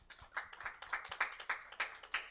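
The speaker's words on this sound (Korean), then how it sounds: "여러분들 이찬서 생일 축하합니다라고 박수 한번 치겠습니다" A congregation at a church youth worship service claps in a quick, steady rhythm of sharp, fairly close hand claps that keep going throughout, with no talking over them.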